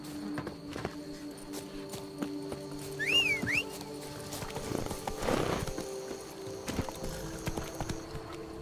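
Hoofbeats of a horse in The Witcher 3 patter at a moderate distance under faint game ambience, with a brief whinny early on and a soft whistle-like tone.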